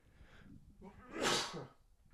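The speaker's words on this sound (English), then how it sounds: "I just sneezed." A single close, sharp sneeze bursts out after a short inhaling buildup, then fades into quiet.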